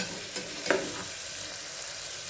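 Ginger-garlic paste and coconut paste stirred and fried in a pan for mutton biryani, giving a soft steady sizzle with a few brief scraping stir sounds, close and quiet, no talking.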